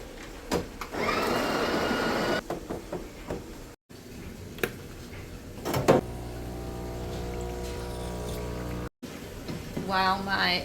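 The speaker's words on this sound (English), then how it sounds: "While my espresso is coming out" A home espresso machine brews a shot on a cold morning with a soft pump whir and hiss, then a steady low humming drone. It is quiet and close.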